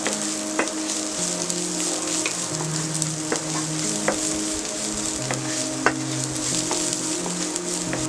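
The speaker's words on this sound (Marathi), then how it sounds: "कांदा, हे सगळं आपण फुल गॅसवरती परतवून घेत आहोत।" Chopped onion stir-fried over a full gas flame for paneer fried rice gives a steady, close sizzle and crackle, with scattered spatula clicks and scrapes against the pan throughout, and no voices.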